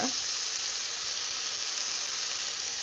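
Steaks frying in a pan without added oil give a steady, close, bright sizzle that holds evenly throughout with no talking over it.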